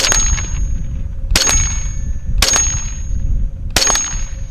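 Four sharp shots from an FN PS90 bullpup rifle, each followed by a bright ringing clang of a steel target, spaced roughly a second apart with faint background noise between.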